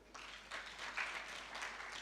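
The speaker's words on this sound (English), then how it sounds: "Kindly clap for all those people." An audience at a freight forwarding certificate graduation ceremony applauds, a steady faint wash of many hands clapping heard from a distance in a large hall.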